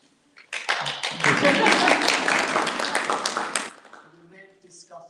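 Audience applause at an International Women's Day event at a university, a burst of dense clapping from a crowd that swells quickly, holds for about three seconds and then fades out.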